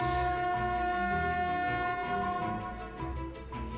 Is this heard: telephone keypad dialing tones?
no